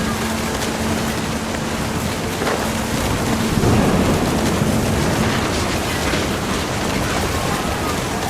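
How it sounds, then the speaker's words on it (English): A thunderstorm from What Remains of Edith Finch: steady heavy rain hisses throughout while a deep roll of thunder swells and rumbles midway, close and powerful. "Thunder sounded much too close and full of angry power"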